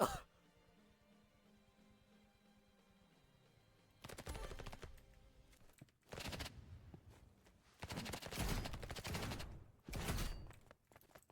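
Uzi fire in the Roblox Rivals video game comes in several rapid full-auto bursts, loud and close, separated by short gaps, with quiet game ambience before the first burst.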